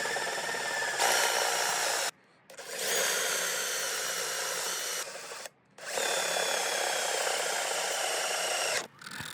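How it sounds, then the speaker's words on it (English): A power drill bores holes for the tuners in a cigar box guitar headstock, sounding in three long whining runs close by, each broken by a brief pause. "I just made them evenly spaced out and drilled holes for them."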